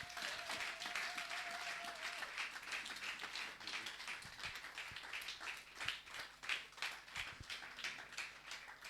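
A church congregation at a Sunday service claps loudly for a speaker coming forward, a dense, lively applause that swells and carries on for several seconds.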